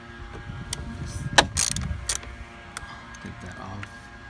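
A Torx 20 driver works loose a lower window belt molding screw on a 2015-2020 Ford F-150 door, giving a few close ratcheting clicks and small mechanical taps amid quiet handling noise.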